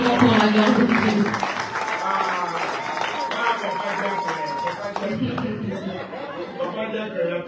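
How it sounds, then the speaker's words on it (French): A church congregation applauds in a steady wash of clapping mixed with crowd chatter and some laughter, loud and close at first, then thinning slightly as it goes on. "Acclamons pour la gloire de Dieu."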